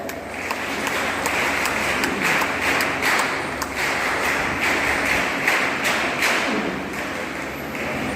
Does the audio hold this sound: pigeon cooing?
no